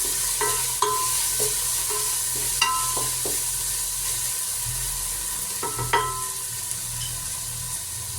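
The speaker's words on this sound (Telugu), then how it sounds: "ఇవన్నీ కాస్త ఫ్రై అవ్వాలి." Spices with two teaspoons of salt and three teaspoons of coriander powder, plus ginger-garlic paste, frying in a pan, a steady close sizzle broken by scattered scrapes and clinks of a stirring spoon, no talking.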